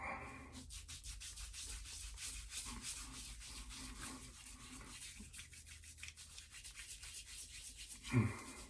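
Hands rub Bayou Butter shave product onto the face, producing soft, close, quiet rhythmic rubbing strokes for several seconds with no talk over them.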